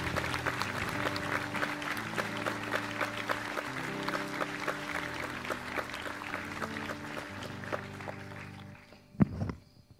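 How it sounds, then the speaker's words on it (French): An evening storytelling audience applauds loudly as a guest takes the stage, with sustained music beneath the dense clapping. Near the end the applause dies down and a single thump is heard. "merci d'applaudir très fort Aram Ekimian"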